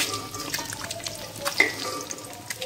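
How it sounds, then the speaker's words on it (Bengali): Salted egg frying in a pan, a steady soft crackle with brief stirring scrapes and clicks, no voices. "লবণ দিয়ে শুদ্ধ ডিমটাকে আমি ভেজে নিয়েছি।"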